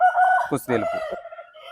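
A double-body fighting cock, a heavy rooster of around five kilograms bred for cockfights, crows once, close and loud, with a voice briefly overlapping the call.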